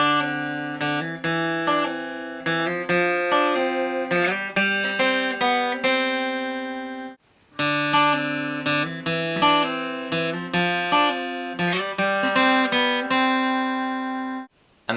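A guitar plays the pre-chorus of a song, with picked and strummed chords ringing out in a steady rhythm, close and clear, with a brief pause halfway through and no voice.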